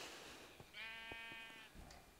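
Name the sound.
sheep bleating in Minecraft video game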